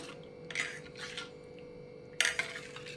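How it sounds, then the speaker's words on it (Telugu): A ladle stirring rasam in a pot gives a few faint scraping clinks in short bursts against a quiet kitchen background, with no talking. "గరిటతో కలుపుతున్నాను"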